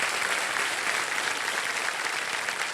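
Dense studio audience applause fills a KBC game show set, a steady wash of clapping hands that holds at even volume throughout with no voices over it.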